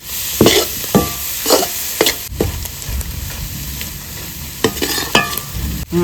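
Milk-based boli being dry-roasted and stirred in a pan, with repeated scraping strokes of the spoon and a light, steady sizzle underneath, close and clear, with no talking.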